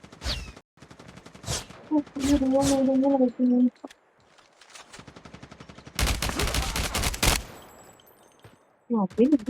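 Bursts of rapid gunfire in Call of Duty crack in quick succession, loud and close, with short pauses between volleys and a few tonal game-like sounds mixed in.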